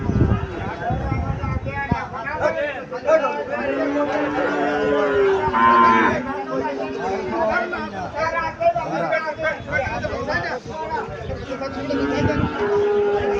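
Heifer calves mooing at a busy cattle market in Cumilla, with several drawn-out low moos near and mid-distance amid crowd chatter and people talking, plus occasional hoof clatter.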